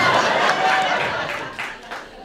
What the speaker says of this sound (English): I'm going to let the clap roll in on that one.